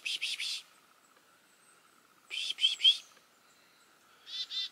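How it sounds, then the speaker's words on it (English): A black-capped chickadee calls from a tree in three short bursts of bright chirping, quiet and at a moderate distance, with a faint background hum between calls. "Little black-capped chickadee right up there."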